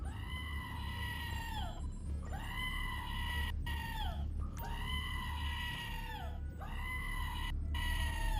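A pocket goat toy plays its electronic scream four times in a row, each a loud, wavering, bleat-like wail lasting about a second and a half, over a constant low background hum.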